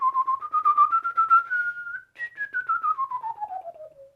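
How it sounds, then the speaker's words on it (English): Whistling produced with the tongue forms two clear, pulsing tonal glides, the first slowly rising, the second starting higher and sliding steadily down, close and alone. "you can use the tongue when whistling, but it's not a normal sound."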